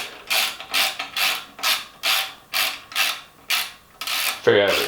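A bicycle stem bolt with stripped threads spins as it is tightened, giving about nine evenly spaced, close rasping ratchet-like strokes, followed by a short spoken word at the end.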